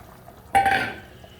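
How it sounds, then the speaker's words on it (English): Cut potatoes tipped into a pot of boiling chicken curry for a Durban bunny chow, making one short, close splash and clatter against the pot, then a fading rustle. "Let's go ahead now and add our potatoes,"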